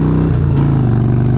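A car engine revving hard in a short, loud burst, with a low throbbing note that steps up in pitch.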